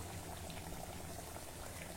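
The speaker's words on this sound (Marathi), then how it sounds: "वेळी तेलात सहज मावतील एवढ्या कचोऱ्या घाला।" Kachoris deep-frying in oil over a low flame make a continuous fine bubbling sizzle, steady and close, with no voices.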